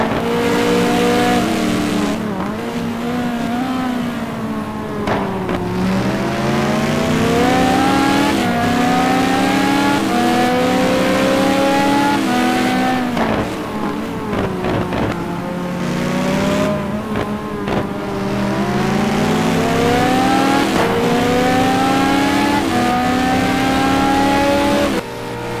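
Racing cars from a GT2 video game race at Sandown, with loud engines revving up through the gears, shifting and dropping away, several cars overlapping steadily throughout.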